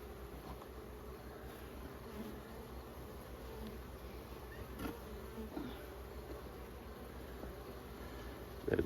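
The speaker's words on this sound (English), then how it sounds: "Shake those bees off." Many honey bees buzz in a dense, continuous drone close by around a hive frame being shaken, with faint rustling and a soft knock near the end.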